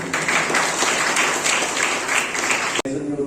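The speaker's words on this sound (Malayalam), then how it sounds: "ഒരു നല്ല കൈയടി നമുക്ക് ആദ്യമായി" Hearty applause welcomes participants at a two-day science camp, dense continuous clapping from a gathered group that stops abruptly, followed by faint room sound.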